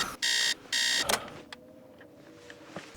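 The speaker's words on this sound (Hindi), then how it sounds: "अलार्म बंद करो।" An alarm clock rings in two loud, even electronic bursts, followed by a clatter and a few faint knocks and taps in a quiet room.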